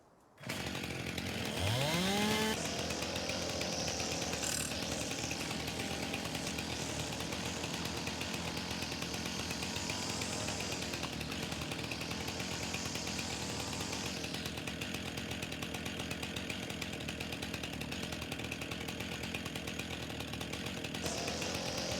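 A weed trimmer in Farming Simulator 19 starts up with a brief rising whine, then runs at a loud, steady, buzzing drone that holds unbroken for the rest of the clip.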